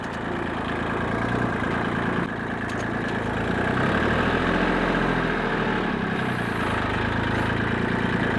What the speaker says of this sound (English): If I can keep my tractor on all 4 wheels here.